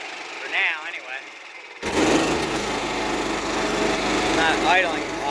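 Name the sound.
Cub Cadet 1330 lawn tractor engine running, idling low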